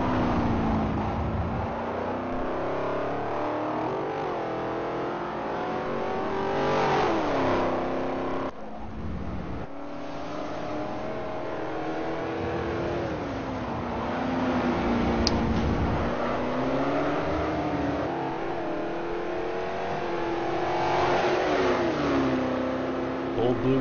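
Classic Trans Am race cars at Sears Point circuit, their engines rising and falling in pitch as they rev through the turns, loud and continuous over about twenty seconds, with a commentator talking over them.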